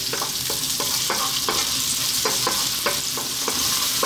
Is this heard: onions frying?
yes